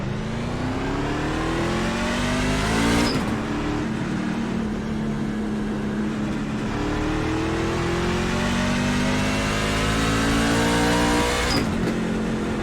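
NASCAR Class C stock cars racing at Daytona in the iRacing simulator, a steady loud engine drone with rising pitch sweeps as the cars accelerate, broken by two sharp gear-shift dips.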